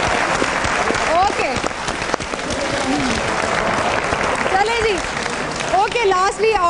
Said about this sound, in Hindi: आपने देखा कि हमारे दो रहनुमा यहाँ से किस तरह तालियों की गूंज में रुखसत हुए हैं